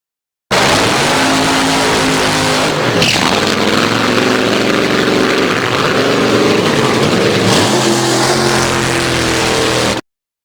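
A dragster engine blares loud and near in a continuous roar, with two sharp revs surging through the sustained engine noise.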